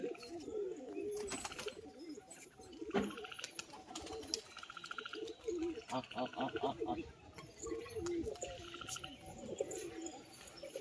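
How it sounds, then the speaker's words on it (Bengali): A yellow-eyed female tumbler pigeon coos softly with a few chirps from other birds nearby, while someone talks over the birds throughout. "তো বন্ধুরা এবার হলুদ চোখো মাদি পায়রাটা এবার বাজি দেখাবো"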